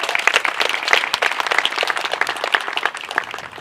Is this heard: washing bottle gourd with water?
no